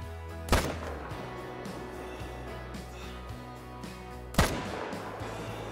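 Two loud M1 Garand rifle shots fired during an elk hunt in the video game Call of the Wild, each a sharp crack with a rolling echo tail, spaced about four seconds apart.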